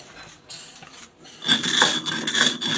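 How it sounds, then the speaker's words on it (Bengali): Hot freshly roasted puffed rice being ground on a stone slab while making chhatu pitha, a coarse rasping scrape that starts faint and grows louder and steadier in the second half, with no talking. "গরম গরম একদম গুঁড়ো করে দিতেছি পাটায় বেটে"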